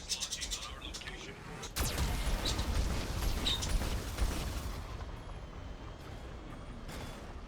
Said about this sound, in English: Warning. Geth cannon is launching on our location.